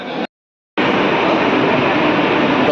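A brief cut of silence, then the loud, steady roar of a suburban train arriving at Goregaon station at close range.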